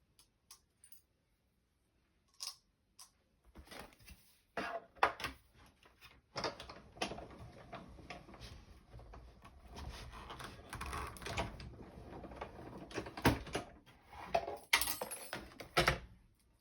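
Paper foliage shapes being cut out for scrapbooking, with irregular close snips and rustles of paper that start sparse and become busier and more continuous, along with small clicks and handling sounds.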